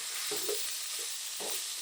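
Onions frying in oil for a Kenyan-style beef stew, a steady broadband hiss of sizzling throughout with a few soft stirring scrapes, close and continuous with no talk.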